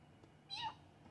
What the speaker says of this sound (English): They can't get a whole meow out.